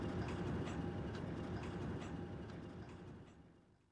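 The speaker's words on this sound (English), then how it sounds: "7017 running around its train as well." A Class 50 diesel locomotive, number 7017, runs around its train in Britain, giving a steady low engine rumble with faint clanking that fades toward the end.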